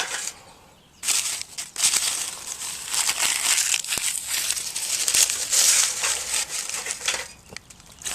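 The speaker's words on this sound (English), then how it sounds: "I'm going to just crumple up some of these newspapers," Newspaper sheets being crumpled by hand to lay a campfire in a camp stove, a close, crinkly rustle that runs in bursts after a quiet opening second.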